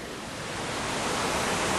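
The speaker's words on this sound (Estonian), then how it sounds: "Kuulates Kose vulinat meenuks nagu midagi variseks kokku." A waterfall roars in a constant, loud, broadband rush that swells slightly, heard up close with no voices.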